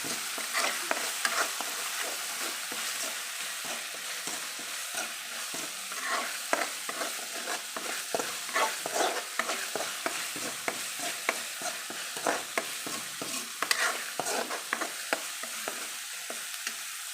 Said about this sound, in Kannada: ಪೇಸ್ಟ್ ಮಾಡಿ ಹಾಕೋಣದ್ರಿಂದ ನೀಟಾಗಿ ರೋಸ್ಟ್ ಆಗುತ್ತೆ